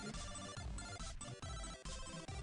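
A phone ringtone plays continuously, loud and musical, with a dense repeating electronic melody and steady beat pulsing throughout, no talking.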